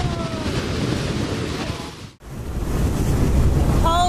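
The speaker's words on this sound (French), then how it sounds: "Lorsque les vagues frappent, l'eau jaillit en éclaboussures massives" Heavy ocean surf slams against a sea cliff, a continuous loud roar of crashing water and spray with wind buffeting the microphone, a brief dropout in the middle, then the pounding resumes.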